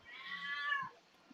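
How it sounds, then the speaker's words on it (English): A cat lets out one drawn-out, rising-and-falling meow close by, followed by a soft faint sound. "Yes, that is a cat."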